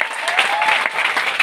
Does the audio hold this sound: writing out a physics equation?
no